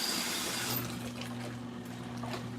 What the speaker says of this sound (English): Still filling hot water.